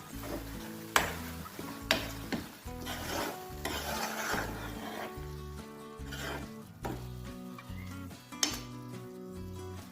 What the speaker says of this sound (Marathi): आणि याला छान मिक्स करून घ्या.